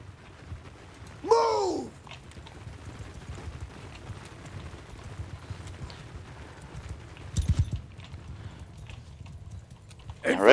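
Cavalry hooves clip-clop faintly in the background of a Mount & Blade II: Bannerlord battle, with a short horse whinny near the start and a brief louder patch of movement later.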